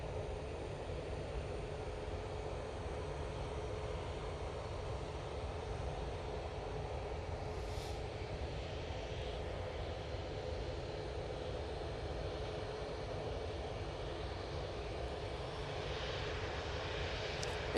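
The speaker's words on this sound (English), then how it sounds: "we've got a Cessna Citation coming out on a taxi" A Cessna Citation jet taxiing at Manchester Airport, a steady distant engine whine and broadband roar holding even for the whole stretch, heard alone without talk.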